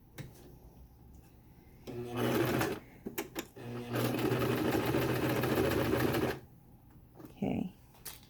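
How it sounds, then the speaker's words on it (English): A sewing machine stitching fabric for a face mask runs in two loud, close bursts of rapid mechanical chatter, with short clicks and pauses between them and quiet room tone around. "start your sewing."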